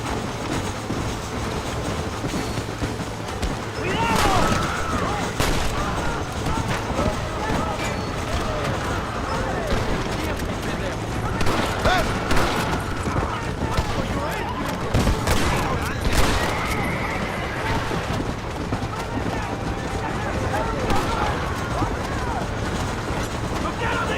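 Scattered gunfire crackles through a Red Dead Redemption fight over a steady, rumbling background, with sharp shots bunched at several moments. People shout and talk throughout.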